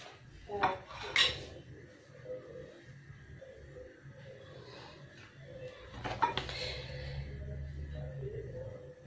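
A knife cuts through a moist Turkish bride cake on a plate, giving a few soft scrapes and clinks of metal against the plate, close and fairly quiet with no talking.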